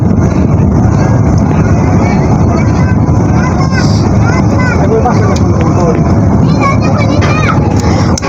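A passenger launch, the Zam Zam 7, makes an afternoon river journey from Chandpur to Dhaka. Its engine drones loud and unbroken, mixed with wind buffeting and faint voices in the background.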